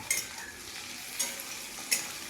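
Green chillies and other ingredients frying for chilli chicken, a soft continuous sizzle with three brief sharp spatters or stirring clicks spaced across the clip.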